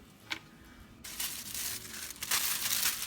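Foil-backed paper crinkles and rustles close by, starting after a brief quiet moment and continuing in bright, scratchy bursts as it is handled and pressed.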